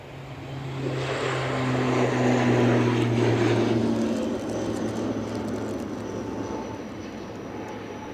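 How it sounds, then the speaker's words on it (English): A fixed-wing aircraft with engines roaring steadily as it takes off into a strong headwind at Edinburgh Airport during Storm Amy, a loud sustained drone that swells and then slowly fades, with buffeting wind beneath. "the aircraft are taking off into about 16 knots worth of headwind"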